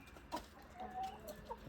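Faint, scattered clucks from a few chickens, soft and intermittent against quiet background noise.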